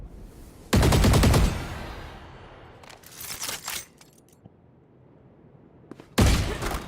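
Video game gunfire: a loud burst of rapid automatic shots opens the clip, quieter scattered shots and clicks follow in the middle, and a second loud burst of automatic fire closes it.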